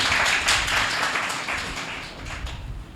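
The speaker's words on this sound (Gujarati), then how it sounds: "તાળી પાડીએ આપણે." Congregation applauding during a church sermon: dense, steady clapping from many hands that holds for a few seconds.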